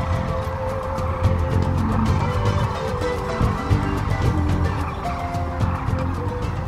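A large flock of sandhill cranes calls together in a central Nebraska valley, a dense and continuous chorus of rattling, overlapping cries heard close up with no speech.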